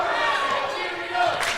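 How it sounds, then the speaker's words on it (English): An excited crowd cheers at a girls' high school basketball game between Breckenridge and Underwood, a loud, dense roar of voices that swells toward the end, filling the gym. "Crowd is very excited here, getting into it today."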